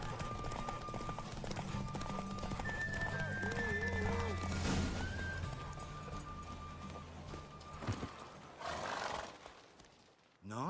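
Horse hooves clip-clopping at a gallop, with a whinny and neigh, in The Witcher 3: Wild Hunt during a horse race, layered with game music and voices talking throughout.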